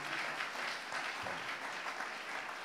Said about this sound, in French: Give the Lord a better clap.